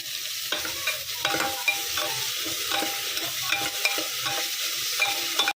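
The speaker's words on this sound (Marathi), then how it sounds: "कांदा आणि ठेचा दोन्ही छान भाजले गेलेले आहेत" Onion and green chilli thecha fry in a pan with a loud, steady close sizzle, broken by regular spatula scrapes and stirring knocks throughout, and no voices.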